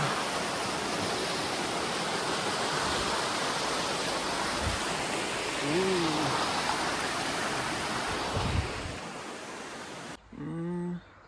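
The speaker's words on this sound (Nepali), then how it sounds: "खोला" A river stream in a mountain valley rushes in a constant broad roar of flowing water. A brief voice and a bird call break through near the end.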